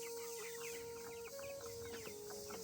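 Tiger-breed chickens suffering from a cold cluck and rasp close by, a steady breathy tone running beneath repeated short, throaty bird calls throughout.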